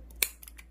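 Scissors make a single crisp snip while notching the seam allowance of a fabric bonnet at 1 cm intervals, followed by a few faint lighter clicks, close and quiet otherwise.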